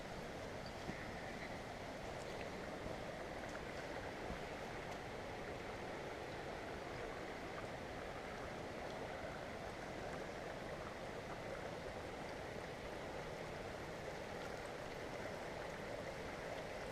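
Mountain creek on a hiking trail along the John Muir Trail, water rushing steadily at a constant level throughout, near and continuous with no voices.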